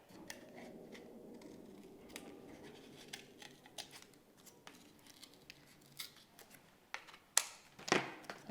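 Quiet, irregular snips and light scraping while slots are cut into slot sculpture pieces, with a few sharper cuts clustering near the end and no voices.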